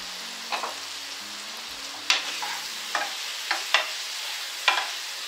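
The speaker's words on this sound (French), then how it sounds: "On va bien mélanger." Leek omelette mixture seasoned with pepper and paprika being stirred in an oiled frying pan over lowered heat: a low steady sizzle broken by several sharp utensil scrapes and taps at uneven intervals, close up, with no talk.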